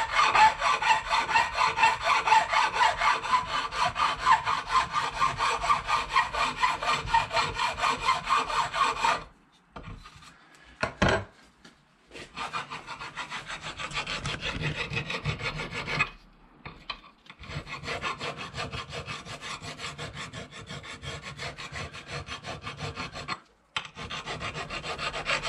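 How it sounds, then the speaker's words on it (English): A hand file rasps rhythmically across the metal ends to dress off burrs during a regulator/rectifier replacement on a VFR800, repeated close strokes broken by brief pauses. "I am going to just dress up the ends. Just to remove any burrs,"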